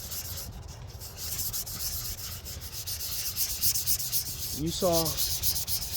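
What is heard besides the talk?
hand sanding the paint on an Estes Star Orbiter model rocket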